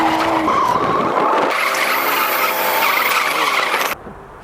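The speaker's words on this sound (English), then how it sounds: "Finally got out drifting again, and it shows on the car." Honda Prelude drifting, tires skidding in a long loud squeal over the revving engine, close up, cutting off abruptly near the end.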